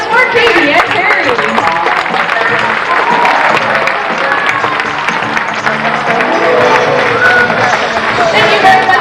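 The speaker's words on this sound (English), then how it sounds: "How about one more round of applause for Katie and Terry?" Loud, sustained audience applause fills an animal show at Knott's Berry Farm, with dense clapping from a large crowd mixed with voices throughout.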